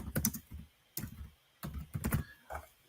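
Bursts of clattering keystrokes on a computer keyboard, fairly close, coming in several quick clusters separated by short pauses, with no voices.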